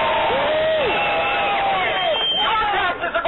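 Rally crowd at a Tea Party protest cheering loudly, with overlapping whoops and shouts forming a dense, sustained roar that tapers off near the end.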